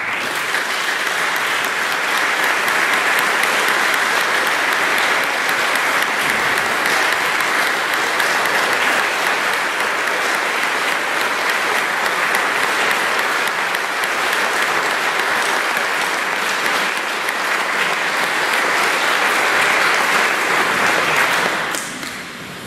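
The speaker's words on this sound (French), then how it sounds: "qu'on s'applaudisse tout le monde ensemble." A Mass congregation applauds together in a sustained, dense wash of clapping that holds steady and full for over twenty seconds before cutting off near the end.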